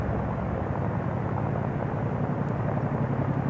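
A Chinook helicopter at an Indian Air Force exercise in Rajasthan, its rotor and engine roar steady, loud and close throughout, with no voices.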